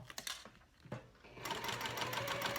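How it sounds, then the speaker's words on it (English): A sewing machine stitches down a fabric wristlet strap. It starts with a few short bursts and then settles into a steady, continuous whirring run. The sound is close and moderately quiet, with no talk over it. "so that's the side that I'm sewing down first"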